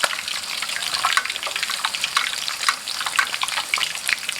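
Shellfish frying crisp in oil over high heat, with a busy, close crackle and bubbling that stays steady throughout and no voices.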